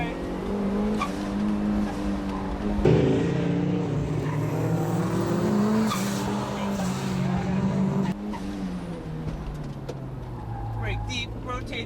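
A turbocharged Mazda Miata brakes hard on a race track, its engine droning loudly throughout with brief tire chirps as it comes off the curbing, while a driver talks over it continuously.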